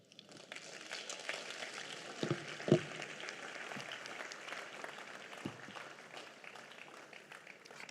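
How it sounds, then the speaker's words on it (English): Church congregation clapping at a sermon, a steady dense wash of applause from a large crowd that holds even throughout, with a few louder individual claps standing out. "Let's clap some more for Jesus."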